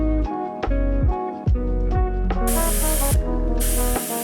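A Gaahleri airbrush spraying paint, bright sharp hissing bursts in two short blasts over a loud, busy backdrop of rhythmic music.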